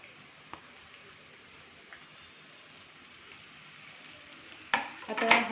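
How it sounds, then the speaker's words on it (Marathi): Chopped onions with ginger-garlic paste and green chili fry in oil with a faint, steady hiss and a couple of light taps, then a louder burst of crackling sizzle near the end as the pan is stirred, with no talking. "कांदा जो आहे ना तो छान आपल्याला ब्राऊन करून घ्यायचा आहे"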